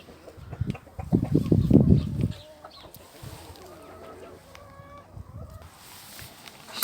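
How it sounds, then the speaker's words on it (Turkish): Chickens cluck and call softly nearby after a loud burst of rustling and thumping at the start. "Özgür tavuk bu."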